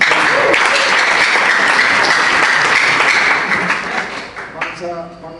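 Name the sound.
audience applause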